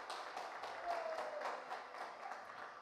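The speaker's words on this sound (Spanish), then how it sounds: "Así que un fuerte aplauso para el señor Manuel Saldaña" Faint applause from an audience at a Dominican community festival in Pennsylvania, greeting the jury president with a soft, steady patter of many hands heard from a distance.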